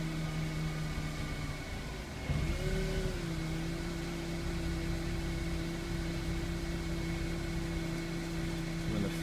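A Honda engine idles during tuning, a steady low rumble with a constant whine above it, briefly surging and shifting pitch early on before settling back into an even hum.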